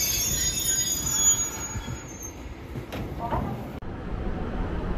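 A Toyama Regional Railway car, formerly run by Tokyu Corporation, rolls along with a high, thin wheel squeal that fades over steady low rumbling, then a sharp click.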